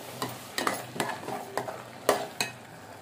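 Carrot halwa with jaggery and ghee is stirred and roasted in a pan, a soft sizzle broken by about seven distinct scraping strokes of a spoon at an uneven rhythm.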